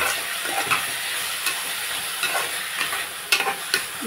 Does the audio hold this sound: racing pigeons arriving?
no